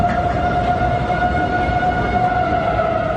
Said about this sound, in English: eerie sounds of tornado sirens